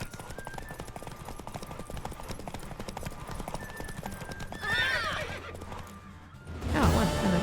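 Horse hooves clip-clop steadily in The Witcher 3 video game, joined near the end by a loud, close neigh and whinny; a brief burst of speech is faintly audible.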